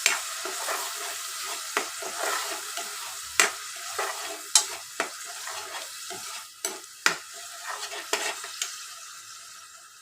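Green chili and onion paste, made from five medium onions, frying in a pan for a chickpea masala curry, with steady sizzling broken by sharp spoon scrapes and clicks against the pan, close and clear, no talking.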